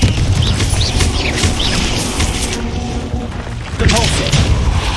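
Spells such as Repulsor and Confringo cast in Hogwarts Legacy make a series of loud booming blasts and crashing impacts in quick succession, with a voice calling out over them.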